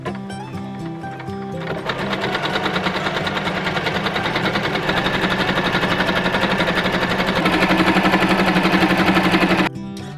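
A sewing machine stitches up a fairy dress, its needle running in a fast, steady mechanical chatter that starts after a brief pause, speeds up slightly near the end, then stops abruptly.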